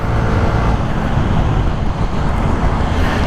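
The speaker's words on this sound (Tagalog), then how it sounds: "so yan full throttle mas maarangkada to for sure" A Vespa scooter accelerating at full throttle on the road, a loud, steady engine roar mixed with wind and passing road noise throughout.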